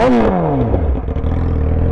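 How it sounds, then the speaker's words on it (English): A motorcycle engine cranks and catches, a quick whirring starter followed by the engine firing and settling into a low, close idle. "Now if I try to start it, the bike will turn on."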